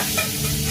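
Garlic frying in a pan on low heat for palak paneer, a steady close sizzle with faint stirring, brief and without talk.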